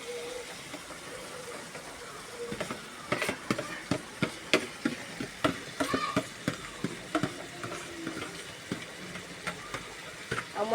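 Boiled chana dal hitting hot oil in a pan and being stirred, giving a steady crackling sizzle with scattered sharp pops and scraping clatter that grows busier after the first few seconds.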